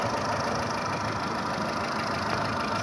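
A 2009 Volkswagen Polo 1.4 MPI with automatic transmission and 191,000 km idles quietly and evenly, a smooth low hum heard up close and alone.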